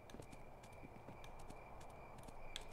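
Horse hooves clip-clop at an even walking pace in the video game Kingdom Classic, faint and rhythmic over a soft game backdrop with no speech.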